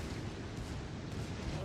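Battleship secondary guns fire nonstop in World of Warships Legends aboard the Nassau, a dense, continuous barrage of booms and rumbling blasts blending into one loud, churning roar.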